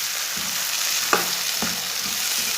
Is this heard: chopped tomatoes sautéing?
yes